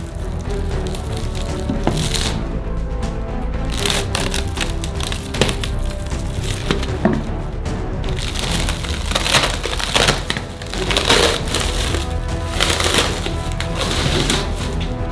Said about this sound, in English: We don't need the wooden walls anymore, so we remove them